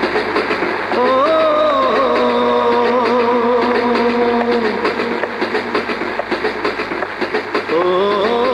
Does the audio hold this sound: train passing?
yes